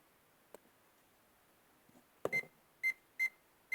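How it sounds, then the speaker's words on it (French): A Vevor clamp meter held near a phone gives a few short, clear electronic beeps in a steady rhythm after some faint clicks, in a quiet room. "Si je m'approche trop près du téléphone, il va biper."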